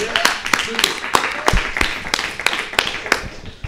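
Scattered applause for a music performer at a small live session, sparse individual claps from a modest audience at an uneven rhythm, fairly close and continuing steadily.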